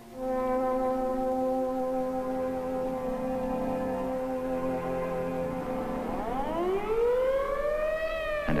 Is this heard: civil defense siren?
yes